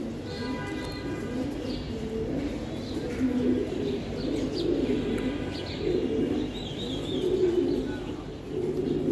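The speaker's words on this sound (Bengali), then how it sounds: "এই যে এক জোড়া খাকি কবুতর" A pair of khaki pigeons, a silver khaki and milk khaki cross, male and female, coo in low, rolling phrases that repeat steadily, with faint chirps from other birds in the background and no talking.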